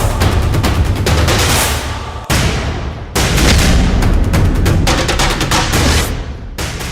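Heavy, loud gunfire rattles through a scene in an Odia TV serial: a near-continuous barrage of rapid shots, broken by two brief pauses.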